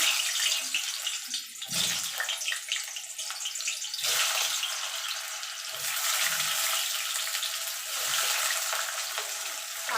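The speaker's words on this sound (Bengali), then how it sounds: "তেলটা গরম হয়ে গেছে এবার আলুগুলো আমি ভেজে নেবো" Potatoes fry in hot oil for a vegetarian soybean and potato curry, a steady loud hiss and sizzle with a few muffled clatters from the pan, no speech.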